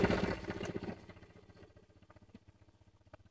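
A Yamaha Vega R four-stroke motorcycle that has just started, its engine settling from a louder initial burst into a steady, even idle with a regular low pulse, close by and alone.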